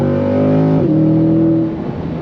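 A Chevrolet C8 Corvette's V8 engine revs loud and close, a rich throaty roar that drops in pitch partway through and settles into a lower rumble, with no voices over it.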